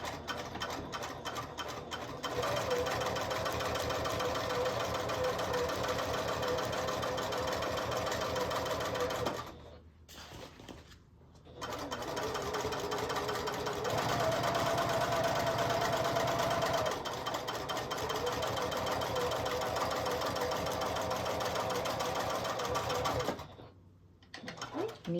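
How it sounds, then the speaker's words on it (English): A sewing machine runs a straight stitch across fabric for a lunch bag, a steady close mechanical whir with rapid needle clatter, stopping briefly twice before resuming. "I'm just going to do a straight stitch all the way across."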